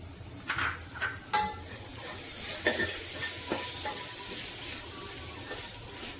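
Tomato pieces frying in a pan for methi pulao while being stirred, a soft steady sizzle with a few scraping stir clicks near the start.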